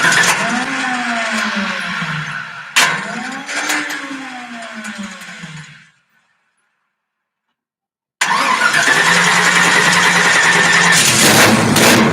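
A car engine cranks twice with rising starter whines, falls silent for a couple of seconds, then catches and runs loudly close by, a cold start with no voices.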